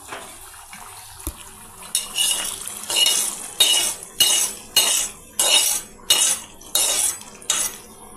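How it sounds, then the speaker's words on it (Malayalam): Metal utensils clink repeatedly against a pot as fried mustard seeds are spooned onto chickpea curry, a steady series of about eight sharp, close scraping taps in a quiet kitchen. "ഇവിടെ ഇച്ചിരി കടുക് വറുത്തതിടാം"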